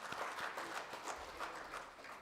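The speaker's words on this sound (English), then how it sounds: "So we must really clap for Kwadi." Audience at a government ministry event applauding, a soft, fairly distant patter of many hands clapping steadily, with no one speaking over it.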